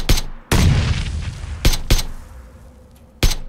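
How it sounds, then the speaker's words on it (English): Frag grenade blast in the battle-royale shooter PUBG, heard as a series of sharp, loud explosive bursts with a rumbling tail between them, alone without talk. "he just threw a frag"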